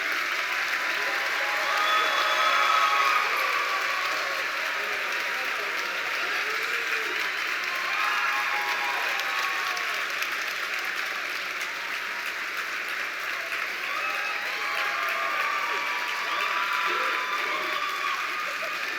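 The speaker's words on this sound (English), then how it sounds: "Please give them a round of applause one more time." Sustained audience applause for student performers called back onstage at an honors college induction ceremony, dense steady clapping filling the hall for the full stretch with a faint murmur of crowd beneath, no words spoken.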